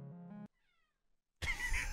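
A pet cat gives a short tonal meow near the microphone, then after a pause a second, rougher and louder meow follows.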